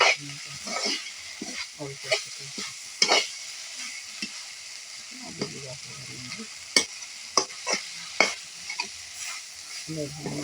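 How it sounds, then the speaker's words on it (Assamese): Elephant foot yam frying in plain oil with no meat, a steady sizzle broken by repeated scraping stirs and sharp clatters of a utensil against the pan. "খালি তেলেৰে ভাজিছোঁ আজি মাংস দিয়া নাই"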